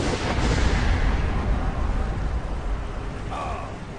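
A fireball spell blasts in Skyrim as a loud, booming explosive burst that rumbles on and slowly fades.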